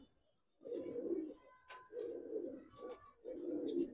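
Khaki and silver Giribaz breeder pigeons in a loft give three close, rolling coos in a steady rhythm, with faint chirps between them.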